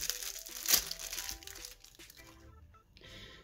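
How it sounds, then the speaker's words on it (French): A small plastic toy packet being pulled open, close crinkling and rustling that peaks in a sharp crackle early on, then continues as softer intermittent crumpling. "Si j'arrive à ouvrir le sachet."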